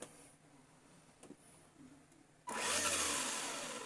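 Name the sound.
Tamiya TT01 RC car motor and gears test run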